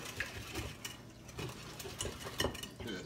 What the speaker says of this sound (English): Give it one more good whisk.